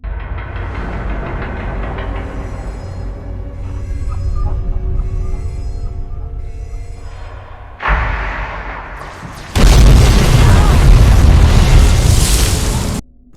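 Explosions in the video game Fallout Sonora, set off like a firework display: a long low rumbling roar with faint pulses, then a sudden burst and a louder, fuller blast that sustains before cutting off.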